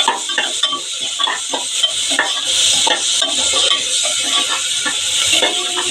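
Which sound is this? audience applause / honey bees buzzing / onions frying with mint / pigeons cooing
onions frying with mint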